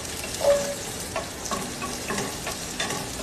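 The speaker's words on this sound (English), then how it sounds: "So sauteing my carrots here very beautifully." Carrots and green chilies are sautéed in a pan for veg biryani, with a steady frying sizzle broken by a few spatula scrapes and stirs, and no talking.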